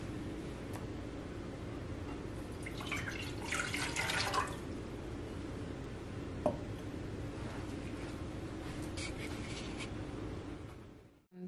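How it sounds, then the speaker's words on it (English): Water pours steadily into a cooking pot for Dominican cocoa tea, a close, continuous rushing splash lasting about eleven seconds before cutting off, with no voices. "I'm going to add 2 cups of water to my pot."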